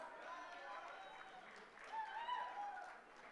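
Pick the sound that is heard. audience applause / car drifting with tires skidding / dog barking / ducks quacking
audience applause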